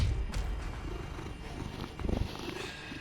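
A close, steady purr from a house cat, a soft rhythmic rumble that pulses gently throughout, with no voices.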